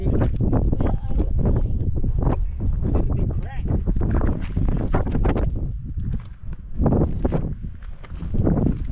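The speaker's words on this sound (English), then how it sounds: "Gosh, it's very windy." Strong gusty wind roars and buffets the microphone in a gorge of the West MacDonnell Ranges, loud and continuous with rumbling low gusts, as people talk nearby.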